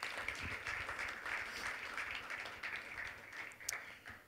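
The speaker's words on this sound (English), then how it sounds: "give a big round of applause to Teresa." A church congregation applauds during a morning service, steady broadband clapping sustained for the whole stretch at moderate loudness with no talk over it.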